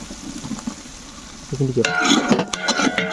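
Small onions (shallots) sautéing in a pan for a vegetarian trotter soup, a soft sizzle at first that swells into louder frying and stirring clatter halfway through.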